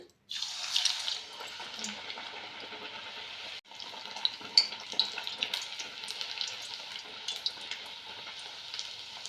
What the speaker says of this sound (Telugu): ఇలా తీసి వేసుకొని ఆయిల్లో డీప్ ఫ్రై చేసుకోవాలి ఆయిల్ బాగా వేడెక్కింది